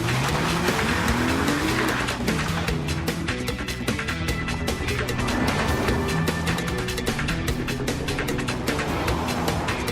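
A 2013 Lexus GS350 sedan driving, a steady loud engine drone with rising and falling pitch through gear changes and continuous road noise throughout.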